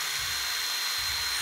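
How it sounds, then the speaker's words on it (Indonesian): A grinding machine fitted with coarse-to-fine sandpaper whines steadily while sharpening a knife, a continuous high hiss with a low thump near the start and the end. "Alat yang digunakan mesin gerinda yang dilengkapi kertas amplas kasar hingga super halus."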